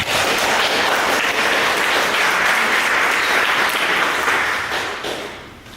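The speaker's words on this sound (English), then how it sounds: "So, a good round of applause for Werner Zeh." Conference audience at a technical event applauding as a speaker comes up, a loud, dense wash of clapping that holds steady, then thins and fades near the end.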